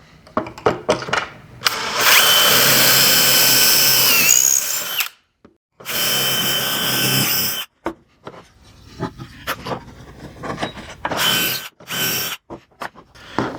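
Power drill driving 2.5-inch screws into wood for a star frame, several whirring bursts of a few seconds each, loud and close, separated by pauses and short clicks.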